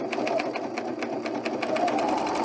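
Serger sewing machine finishing the edge of a tool belt with a rapid, steady mechanical chatter throughout, close and continuous, with no one talking.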